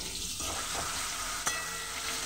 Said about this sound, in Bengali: এবার এগুলো ভেজে নেব, হালকা করে ভেজে নেব